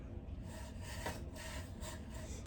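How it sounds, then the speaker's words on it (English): Spoon scraping peanut butter into a bowl for peanut butter Rice Krispies treats, quiet repeated rubbing strokes close by with no talking. "Scrape that in there."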